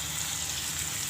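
Whole spices sizzle steadily in hot oil in a pan for matar pulao, a constant close hiss with no talking.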